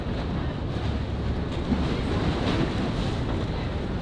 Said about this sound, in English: Man, that water is loud.